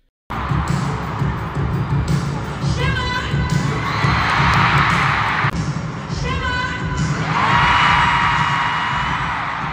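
A concert crowd in Warsaw erupts into sustained loud cheering and screaming, a dense wall of fan noise with shrill whistles rising in waves.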